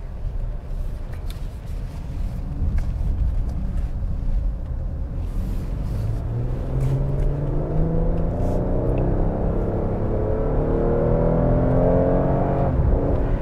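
A 2021 Toyota Highlander Platinum accelerates while driving, its engine note rising steadily over roughly thirteen seconds, with road and wind noise building underneath and no talking.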